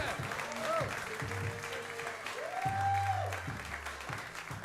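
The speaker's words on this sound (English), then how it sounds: "big hand for Sumukh Torgalkar" Audience applause for a comedian at a stand-up comedy show, a steady wash of clapping that runs under a voice speaking over it.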